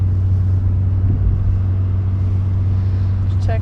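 A Renault Twingo with manual gearbox drives on a sunny, snowy Swiss road, its engine a steady low droning hum inside the cabin, loud and constant, with a faint squeak near the end.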